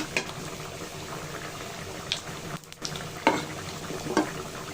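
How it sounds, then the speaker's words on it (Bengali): Whole cumin seeds frying in oil after garlic, stirred in the pan: a steady soft sizzle and bubbling with a few scraping stirs and clinks, close and moderately quiet, with a brief dip in the middle. "এখন দিয়ে দেবো সামান্য কিছু জিরা, আস্ত জিরা। জিরাটা একটু নাড়াচাড়া দিয়ে ভেজে"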